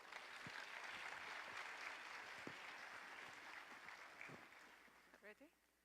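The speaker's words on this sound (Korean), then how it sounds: "네, 박수로 맞아주시기 바랍니다." An audience at the Korea Global Hackathon final pitch applauds to welcome a presenting team, a broad, sustained clapping that fades near the end as a voice begins.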